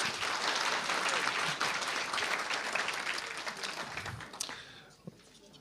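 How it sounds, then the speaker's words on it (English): A room full of people at an annual general meeting applauds newly elected members. The clapping is loud, dense and sustained, then thins out and fades near the end. "a round of applause for this"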